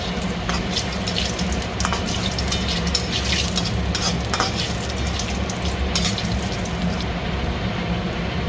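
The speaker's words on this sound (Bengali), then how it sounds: "তেলের মধ্যে জিরে দিয়ে দিলাম, দুটো তেজপাতা, একটা তেজপাতাকে দুই টুকরো করে দিলাম।" Cumin seeds and bay leaves sizzle in hot oil in a pan, a steady close hiss that runs continuously with faint stirring clatter.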